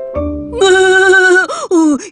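Baby goats in a children's kindergarten TV show let out a loud, close, quavering bleat, followed by two shorter wavering cries.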